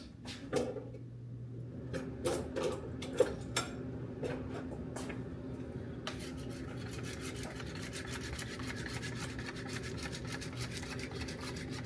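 A wire whisk beats eggs in a bowl while shrimp fried rice is being made, starting with scattered clicks and taps, then settling into a steady, rapid scraping rattle.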